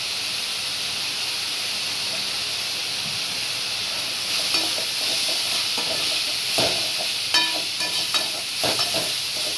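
Onions sauté with asafoetida and coriander powder in a pan, a steady hissing sizzle with stirring scrapes and clinks growing busier toward the end, close up and without speech.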